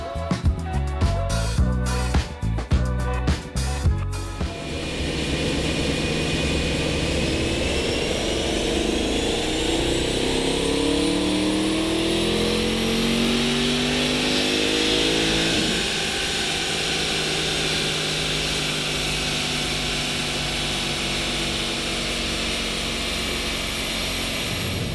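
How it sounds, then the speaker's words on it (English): Porsche 971 Panamera Turbo with its 4-liter twin-turbo engine on a dyno: a few sharp revs at first, then a loud, sustained run with rising engine pitch and turbo whine, followed by a steady high-rpm roar. "today we have a 971 Panamera Turbo, a 4-liter twin turbo here at the dyno"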